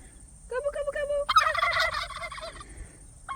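Turkeys in New Zealand gobble in rapid bursty calls, one clear series followed by a louder overlapping chorus from several birds, fairly close and alone without talk.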